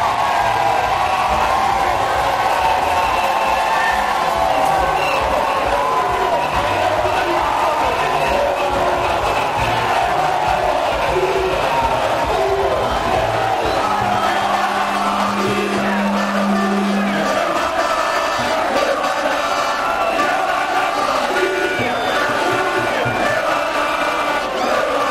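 Thousands of young and old residents of Kimpese, men, women and children, welcome the president with loud, continuous cheering and shouting, a dense roar filling the whole stretch, with a brief steady tone partway through.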